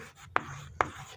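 Writing during a Class 10 history lesson gives two short, sharp scratching strokes about half a second apart, close and clear against a quiet room.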